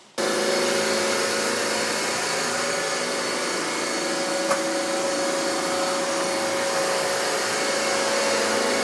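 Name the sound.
Roomba robot vacuum cleaner running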